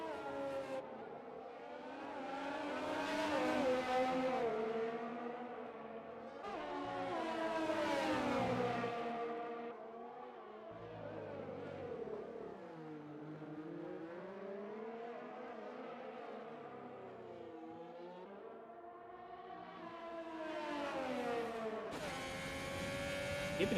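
Race cars lapping Shanghai International Circuit in a racing video game, several engines droning and rising and falling in pitch as they accelerate and shift, loud and continuous throughout with no talk over them.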